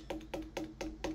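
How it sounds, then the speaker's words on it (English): Five light, dry taps on the rim of a frame drum, struck too far toward the edge, evenly spaced and fairly quiet, each a short clicky knock. "you'll just hear the rim of the drum."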